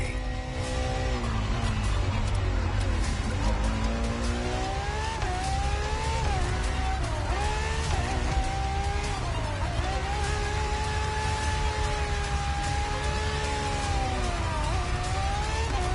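Ferrari FXX K hypercar engine in the racing game The Crew Motorfest, a continuous loud high-revving wail rising and falling through gear changes, steady and close throughout with no talk.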